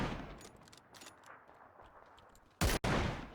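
An M24 sniper rifle in PUBG fires near the end, one sharp, loud crack after quieter game ambience, followed immediately by a second blast or echoing boom.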